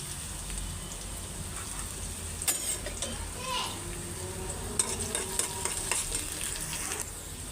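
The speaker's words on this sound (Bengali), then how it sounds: "শুধু এখন পেঁয়াজ বেরেস্তা দিয়ে বাগার দিয়ে দিলাম" Sliced onions sizzle steadily in hot oil as they fry crisp and brown for a chickpea tempering, with occasional scraping stirs and light spatters over a constant frying hiss.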